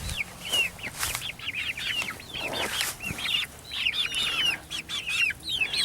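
Chickens cluck and chirp steadily from close by in a garden yard with tall grass, a dense run of short repeated calls filling the whole stretch with no talk.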